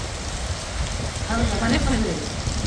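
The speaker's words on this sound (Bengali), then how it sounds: "আজকে অনেক বৃষ্টি নামছে" Heavy rain falling outdoors, a steady, dense hiss of drops that swells slightly midway and continues evenly throughout.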